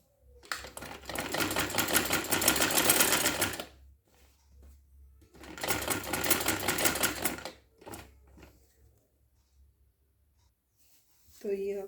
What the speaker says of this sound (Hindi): और यहाँ से पूरी आप सिलाई कर दें।